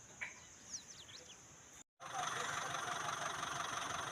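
A steady tractor engine rumble fills the second half after a brief cut, with birds chirping faintly over background noise before it, at a temple construction site.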